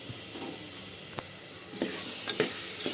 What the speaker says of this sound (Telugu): ఇవన్నీ కూడా మళ్ళీ కొంచెం నూనెలో ఫ్రై అవ్వాలండి